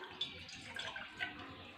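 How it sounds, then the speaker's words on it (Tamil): Water splashes and trickles into a bowl on a stove, making soft, uneven pours with a few sharper drips. The sound is close and fairly quiet. "ஸ்டவ் ஆன் பண்ணி பவுலில் தண்ணி சேர்த்துடலாம்."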